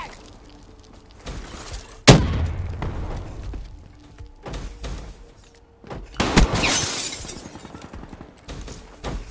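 A frag grenade blast in Call of Duty Black Ops III lands as a loud, sharp burst around two seconds in. A second dense explosive crash follows later, with gunfire-like crackle and mechanical clatter between them.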